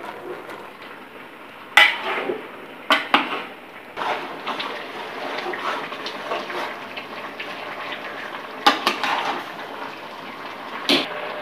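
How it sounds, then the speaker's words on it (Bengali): A spoon stirring dried fish (shutki) curry in a pot, with scattered metallic scrapes and clinks against the pot over a low background, a few sharper knocks standing out. "এখন একটু নেড়ে ছেড়ে দিব, শুটকিগুলোকে মিক্স করে দেবো"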